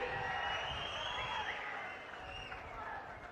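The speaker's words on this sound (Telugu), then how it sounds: "గట్టిగా చప్పట్లు కొట్టి అభినందించండి" A crowd at an outdoor Andhra Pradesh land programme breaks into applause, a dense wash of clapping that stays loud and then eases slightly toward the end, with some voices mixed in.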